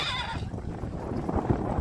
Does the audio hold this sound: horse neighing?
yes